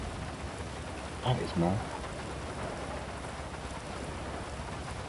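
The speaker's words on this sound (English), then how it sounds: "It's making the noise of the rain." Steady rain hiss played through a game controller's speaker during GTA Online, a continuous wash throughout with someone talking briefly over it.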